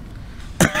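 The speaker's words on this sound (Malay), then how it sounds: "Saya batuk pula ni." A single short, sharp cough, close and loud, after a moment of quiet room noise.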